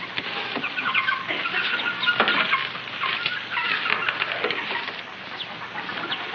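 Chickens cluck and chatter continuously in a barnyard, a dense, busy layer of overlapping fowl calls at steady loudness with no talking.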